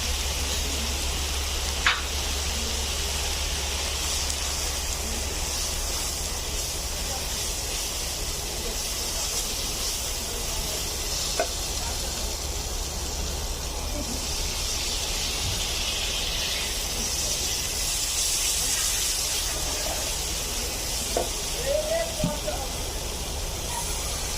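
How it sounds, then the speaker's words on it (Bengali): Red chili powder and fish spice masala fry in a pan with a soft, steady hiss and faint crackle lasting throughout, and occasional light clinks break in. "দুই থেকে তিন মিনিট মশলাটা আমি ভেজে নিয়েছি"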